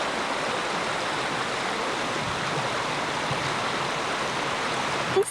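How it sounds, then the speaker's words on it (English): Stream water spilling smoothly over a log like a small waterfall, a steady, dense rushing wash that holds even and close throughout, with no voices. "This is a log that the water's going over. It's all smooth, so it looks like a waterfall."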